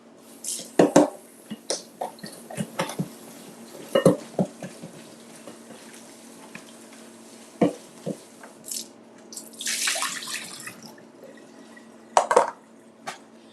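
Asparagus spears rinsed under a kitchen tap, a steady hiss of running water punctuated by knocks and clatters of handling at a sink, with a louder splashing burst near the end.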